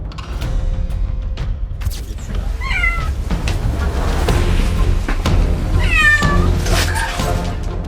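A distressed kitten stuck in a car wheel lets out two loud, strained meows a few seconds apart over a steady low rumble and scattered clanks.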